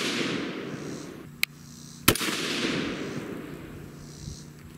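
A hand-assembled rifle fires 105 Sierra Blitz King handloads during a 10-shot group: two sharp, loud cracks about half a second apart over steady background noise.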